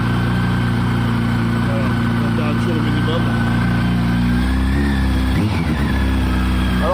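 A Kawasaki ZX12R motorcycle engine idles loud and close with a steady low throb, the revs shifting slightly partway through, while someone talks over it.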